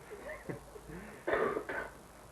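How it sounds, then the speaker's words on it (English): A single throat clearing, a short rough burst midway through, followed by a smaller second rasp, close and moderately loud against quiet room tone. "just clearing his throat first"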